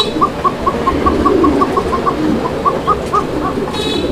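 Pigeons in a crowded loft of breeding pairs with chicks coo repeatedly in soft, rhythmic bursts, close and clear over a constant bed of flock noise.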